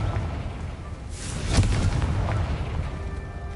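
In the video game Hogwarts Legacy a Confringo spell bursts as a single booming explosion over a rumbling background, its sharp blast near the middle trailing off into a low roar.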